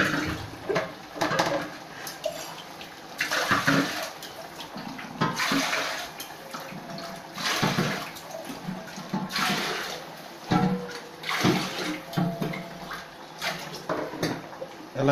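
Mineral drinking water is poured over basmati rice in a pot for chicken biryani, making an uneven gushing splash that rises and falls in bursts. The pouring sounds close and goes on for the whole stretch.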